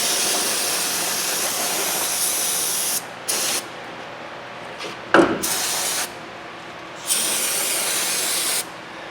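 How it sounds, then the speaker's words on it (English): Brake cleaner sprays from an aerosol can onto a wheel hub on a 2005-2011 Dodge Dakota in several close, hissing bursts, starting with a long spray and followed by shorter ones with brief pauses between. "I'm going to use a little brake clean."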